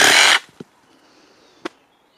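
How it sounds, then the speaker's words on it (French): Parkside PSSAP 2028 reciprocating saw with its wood blade cutting through a tree branch: a loud, dense buzzing burst that cuts off after about a third of a second, followed by two sharp knocks in the quiet. "lame bois fournie par Parkside. On va la tester sur cette magnifique branche."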